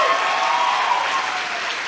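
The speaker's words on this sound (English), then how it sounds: "I just want to hear a round of applause for them as well." An audience at the 2025 Barkleigh Honors awards ceremony breaks into a round of applause, a dense, steady wash of many hands clapping at once, loud and sustained throughout with no voices rising above it.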